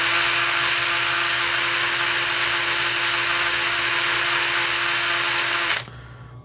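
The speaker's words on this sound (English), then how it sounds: "Got a little bit of chrome polish on the end of this Q-tip on a drill, and I'm just going to polish this seat" Steady high-pitched whine of a drill spinning a Q-tip dabbed with chrome polish against a carburetor needle seat from a Mastercraft 12.5hp rider mower. It runs loud and close, then cuts off abruptly near the end, leaving quiet room tone.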